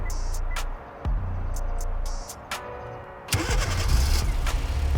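A 2015-2019 Hyundai Sonata push-to-start engine fires up by remote starter: a few faint beeps and chirps, then the engine catches with a thump and settles into a steady close idle rumble.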